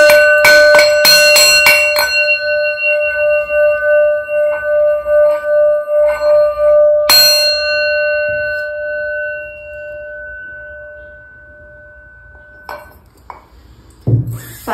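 A bright metal bell struck several times in quick succession, then a long ringing tone that slowly decays, another single strike midway, and a few small clicks near the end.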